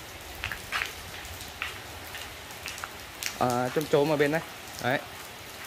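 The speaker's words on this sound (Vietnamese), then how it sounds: "mưa rất là lớn luôn mọi người ạ" Heavy rain pours down steadily outdoors beside a rambutan tree on a farm, a constant hiss of drops forming the background while people talk over it.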